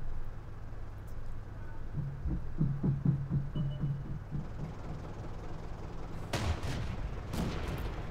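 Tank cannon fire in World of Tanks from a Chi-Ni tank: low, rapid thuds come first, then several sharp, loud blasts, with no voices.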